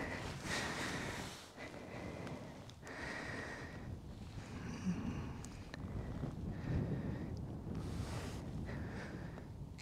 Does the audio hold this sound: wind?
yes